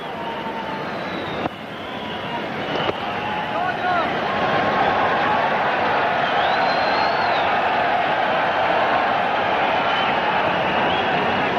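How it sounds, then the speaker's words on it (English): A packed stadium crowd at a India versus Sri Lanka cricket match in Mumbai, a steady, broad, far-off roar of murmuring and shouts that builds slightly and holds, with no clear single voices standing out. "Crowd's starting to get a little impatient."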